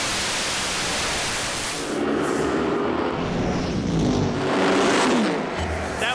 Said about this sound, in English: You never forget the first time you see, hear and feel a Nitro car.